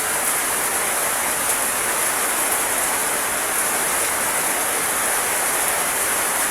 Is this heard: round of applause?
no